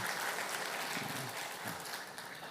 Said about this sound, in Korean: 우리 크게 박수로 환영합니다.